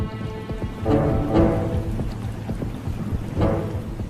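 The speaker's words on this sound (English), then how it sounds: "a storm blows in." Thunder and rain from a storm blowing in over the Yellowstone wilderness: steady rainfall with a couple of low rolling thunder swells, fairly close and full, and no voices.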